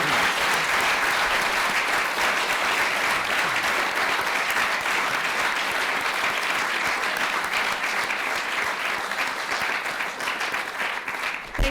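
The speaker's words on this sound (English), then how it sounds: "if we could give another round of applause" An audience applauds after a lecture on addressing climate through food, a broad steady wash of many hands clapping at close range that holds for the whole span and tapers slightly at the end.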